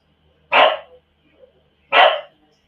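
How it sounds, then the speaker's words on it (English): Two sharp, loud dog barks ring out about a second and a half apart, close by, with quiet gaps between and no talk. "You'll hear lots of dogs barking."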